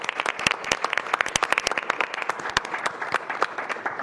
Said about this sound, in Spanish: Despedimos con un fuerte aplauso